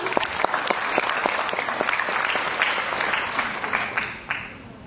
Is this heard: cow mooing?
no